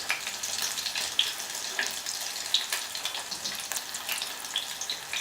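Mini corn dogs fry in hot coconut oil with a steady, fine crackling sizzle, moderately quiet and continuous, punctuated by occasional small pops, with no talking.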